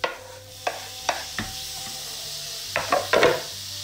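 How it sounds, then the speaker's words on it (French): A pan of spinach with crushed tomatoes being stirred, with a spoon scraping and knocking against the pan in irregular strokes over a faint sizzle, close and moderately quiet. "Je vais mélanger et je vais ajouter les tomates concassées."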